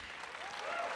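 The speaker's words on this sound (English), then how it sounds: "Please give yourselves a big old round of applause" Brief burst of audience applause at a live podcast recording, a soft, diffuse patter of many hands clapping at a distance, steady across the moment with no voices rising above it.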